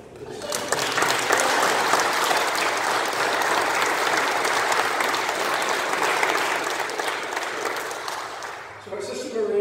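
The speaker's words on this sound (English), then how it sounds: "Let's applaud them." A church congregation at Mass applauds at length, a dense, sustained clapping that rises quickly, holds for several seconds, then tapers off as a voice resumes.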